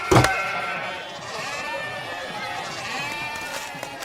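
A goat bleats in a long, wavering, nasal cry close by that runs for several seconds, with a short knock at the start.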